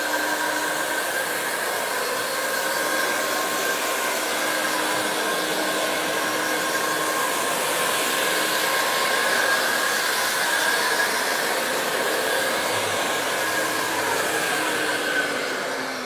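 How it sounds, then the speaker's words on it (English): An i-mop floor scrubber machine runs with a steady, loud whirring hum that stays constant throughout, with no voices. "once I activate the trigger, the machine comes up and I can start working"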